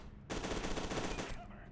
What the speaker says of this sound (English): So you can shoot the fuel canisters on their backs.